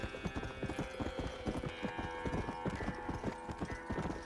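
Steady horse hooves clip-clopping in a rapid rhythmic gallop in the Red Dead Redemption video game, loud and close, with no talk over them.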